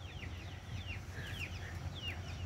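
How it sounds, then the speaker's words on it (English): Many young birds, ducklings and chicks, peep and chirp rapidly in a busy, overlapping chorus, with low clucking underneath, fairly close. "The ducks and the chicks are over there."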